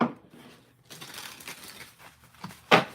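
A brand-new, slightly stiff tarot deck is shuffled close up, giving soft riffling and card-flicking rustles with a sharper snap of cards near the end, no talking.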